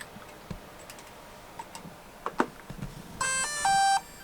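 After a fresh battery goes in, a drone powers on with a short series of electronic beep tones following soft handling clicks and ticks, the beeps clear and close.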